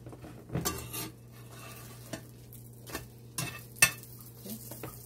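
Cooking in a skillet, mango-related: a low steady hum with intermittent clatters and scrapes of a utensil against the pan and a faint sizzle, close and moderately quiet.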